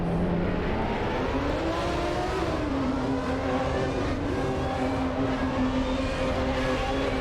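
A 1994 Formula 1 car in Assetto Corsa at the French race, its engine holding a high, steady whine while entering the pits, loud and continuous with slight pitch shifts and no talk.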